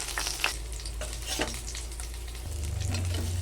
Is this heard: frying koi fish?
yes